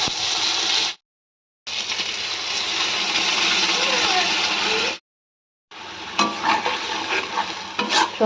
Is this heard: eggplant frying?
yes